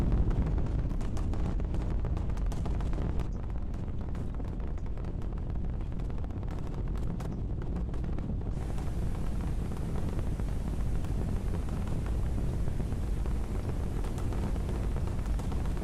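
Starship Super Heavy booster with all 13 rocket engines firing makes a continuous, heavy roar that stays loud and dense throughout, with crackling rumble and wind buffeting and no voices.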